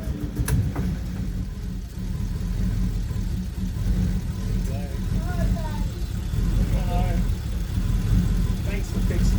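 A Valiant Hardtop Mexicana engine idles roughly on its first start in years, a steady low rumble running throughout with people talking over it.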